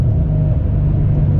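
A modified Ford Mustang with home-built mods gives a loud, close, deep engine rumble that holds steady for a brief moment under hard acceleration.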